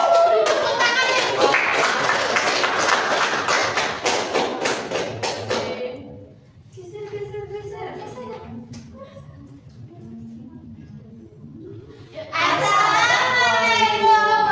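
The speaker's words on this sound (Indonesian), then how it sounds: "Tepuk tangan ya." Schoolchildren in an elementary classroom clap in a rapid, fairly loud burst for about six seconds, followed by quieter chatter and then children's voices speaking together.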